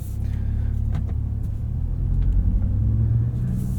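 A 2025 Audi S3 with a dual clutch gearbox drives along, its engine giving a steady low rumble that swells slightly partway through, heard from inside the cabin with no talking.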